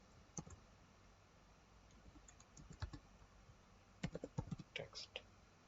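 Keys clatter on a computer keyboard in scattered clusters, faint and close, with a brief pause between bursts and a low hiss underneath.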